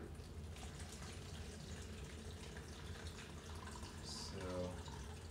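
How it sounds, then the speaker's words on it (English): Water is poured into a container of fresh grapefruit juice in a kitchen, a quiet steady trickle and splash lasting several seconds, with a brief louder gurgle near the end and no talking. "So what I'm going to do is I'm going to pour my water."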